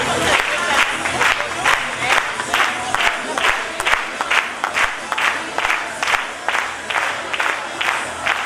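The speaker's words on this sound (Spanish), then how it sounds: "Ahora seguimos cada uno con las palmas." A group claps hands in time during a classroom movement activity, sharp unison claps repeating at a steady, fairly quick beat over roughly two per second, with some crowd voices underneath.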